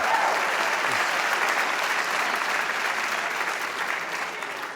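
Applause from a comedy show audience, a full, sustained burst of many people clapping together that stays loud and steady, then tapers gently toward the end.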